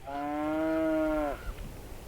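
A single cow moos in the snow, one long, steady, resonant low call lasting over a second, then a short quiet stretch with faint rustling.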